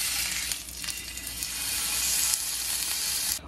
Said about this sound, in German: So, Julian kommt noch auf die super Idee, dass wir die Seiten auch noch mal schnell ein bisschen anbraten.